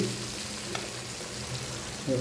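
Pieces of mixed fish frying in hot oil in a pan for a Bengali fish and eggplant dish, giving a steady, close sizzle that holds evenly throughout and swells slightly at the end.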